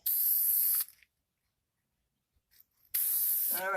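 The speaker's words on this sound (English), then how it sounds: "Now I'm going to spray this one more time to lock that fresh pencil line in there" Aerosol fixative sprayed over fresh graphite pencil line on a large-format tile template, two loud hissing bursts of about a second each separated by a quiet gap, close to the microphone.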